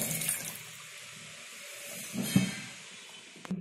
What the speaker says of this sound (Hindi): और इसमें थोड़ा सा पानी डालेंगे।